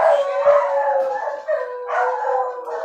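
Several dogs howl together, with a few barks and yips, loud and close in long, wavering overlapping cries that dip briefly before rising again.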